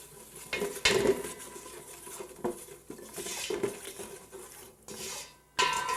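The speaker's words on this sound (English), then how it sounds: "Go ahead and give that a stir." Gumbo with dried bay leaves stirred in a cooking pot, giving a run of close metal-on-pot clinks and scrapes with irregular taps and pauses, with no talking over it.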